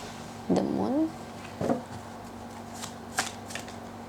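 Tarot cards are shuffled and drawn in a few quick papery riffles and flicks, with a louder burst early on and softer snaps after, close and fairly quiet against a low background hum.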